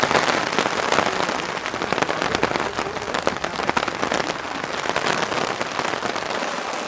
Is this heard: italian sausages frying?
no